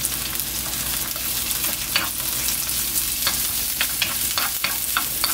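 Onion, Cheongyang green chili and garlic fry in a pan with a dense, close sizzle while a utensil scrapes and clicks now and then, steady throughout and free of speech.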